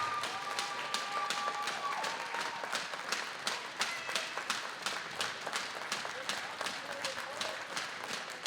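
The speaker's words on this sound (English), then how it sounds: "Please give a round of applause to your 28 Oregon Varsity seniors" Spectators at a varsity hockey game applaud the team's seniors in a rink, a scattered, moderately faint clapping with distinct individual claps and a low murmur beneath.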